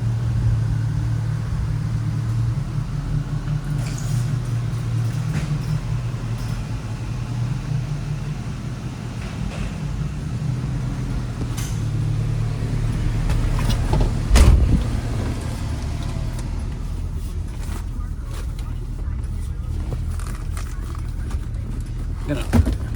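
A 1977 Chevrolet Camaro Z28 with a 350 V8 and a four-speed manual drives off, its low engine rumble steady inside the cabin with some clicks and knocks as gears change, and someone talks over it at times.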